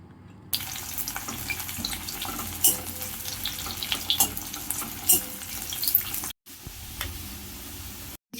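Ground masala paste of ginger, garlic, cumin, coriander, chili and turmeric frying with onions in a pan, a steady close sizzle with scraping and stirring bursts, no talk, briefly cut near the end.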